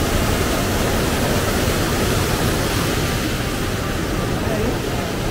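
Meltwater from snow cascading down at Arous Waterfall, a loud, continuous roaring rush close by with no pauses, a faint wind-like hiss over the top.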